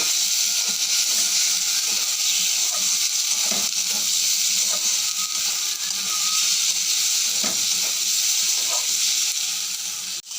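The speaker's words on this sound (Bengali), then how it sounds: "এইবারে দেব লঙ্কার গুঁড়ো, জিরের গুঁড়োটা দিয়ে দেব। ভালো করে এগুলোকে নাড়াচাড়া করে নেব।" Chili and cumin powder fry in a pan while being stirred for a fish curry, a steady close sizzle with scraping stirs and occasional soft knocks throughout.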